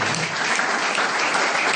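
An audience at an indoor event claps throughout, a dense, even wash of many hands from a large crowd, fairly loud and steady, with no talking over it.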